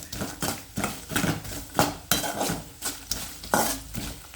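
Puffed rice (mandakki) being stirred with a little sugar in a hot pan after the stove is switched off, a spoon scraping and rattling the crisp grains in steady, close strokes.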